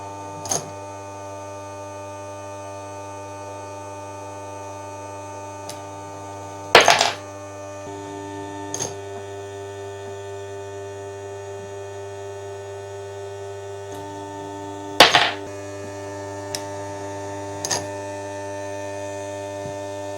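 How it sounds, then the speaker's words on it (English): An AGS Custom annealer, version 3.2, runs empty with no cartridge cases being annealed: a steady electric motor hum with a few light clicks and two sharper clunks about eight seconds apart as the cases drop. "the case head actually is spinning while it's being annealed"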